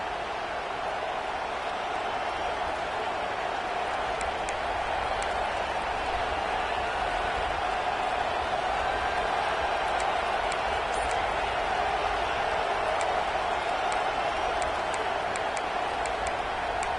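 Auburn football stadium crowd during a college game against UCF, a steady, unbroken wash of distant roaring noise from a large audience with no individual voices standing out.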